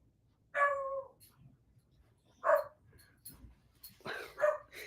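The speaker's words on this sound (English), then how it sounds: "The wind is making the dogs bark." Dogs barking outdoors on a windy day, three separate bursts of barking, the last one a quick double, against a quiet background.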